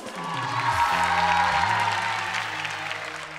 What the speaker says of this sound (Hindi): भाई फैजान के लिए तालियां